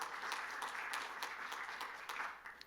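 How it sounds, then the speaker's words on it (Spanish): A church congregation claps during a worship service, faint but steady applause with some distinct individual claps standing out against the dense patter. "dele fuerte el aplauso al Señor"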